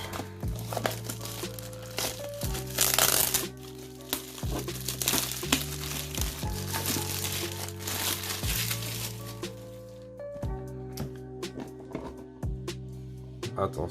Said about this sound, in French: cette fois-ci j'ai pris des ciseaux pour l'ouvrir